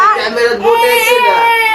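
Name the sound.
baby girl crying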